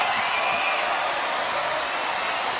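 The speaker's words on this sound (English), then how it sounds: "Listen to the crowd showing their appreciation for the Villanova Wildcats." A basketball arena crowd cheers and whoops for the Villanova Wildcats as they win the 2015 Big East tournament championship. It comes through as a steady, dense roar with a muffled, band-limited tone.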